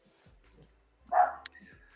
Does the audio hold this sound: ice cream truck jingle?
no